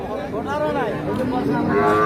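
A Sahiwal cow moos loudly nearby at a cattle market in Ambari, Dinajpur, its drawn-out calls rising and falling over the murmur of a crowd talking in the background.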